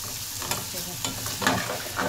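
Onions frying in oil in a home kitchen, a soft steady sizzle with a few stirring scrapes and clicks, close and without talk.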